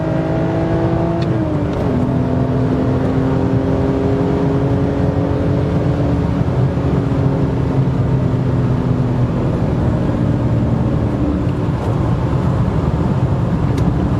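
BMW E90 330i accelerating hard in third gear from about 60 km/h, a steady loud engine drone climbing in pitch, with a brief dip near two seconds as revs settle before building again, no talk over it.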